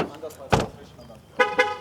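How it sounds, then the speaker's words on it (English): A Ford Mustang Mach 1 horn sounds in two short, loud bursts, one near the start and a second one later, over faint background rumble. "Did you hear the horn, by the way?"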